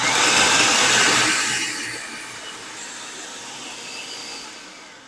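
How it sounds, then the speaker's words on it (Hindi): Electric chopper grinding bread for chicken burger patties, a loud motor whir for the first second and a half, then settling into a lower, steadier hum as the bread breaks down. "इसको हम इस तरीके चॉपर के अंदर ऐड करेंगे और इसको हल्का सा ग्राइंड कर लेंगे"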